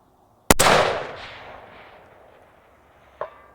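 A single sharp rifle shot from a CMMG Endeavor AR10 chambered in 6.5 Creedmoor cracks loudly and rolls into a long fading echo outdoors, with a faint distant impact report a few seconds later.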